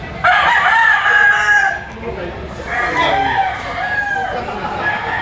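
Gamefowl roosters, bullstags and cocks, crow loudly and close by in two or three overlapping calls, with clucking and someone speaking in the background.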